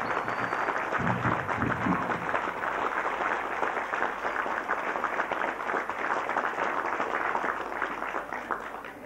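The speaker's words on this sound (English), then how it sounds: "I'd like to give you a big hand of applause for our President" An outdoor crowd in Lifford applauds President Mary Robinson during her 1992 visit, a dense, sustained wash of clapping that holds steady at moderate loudness for several seconds.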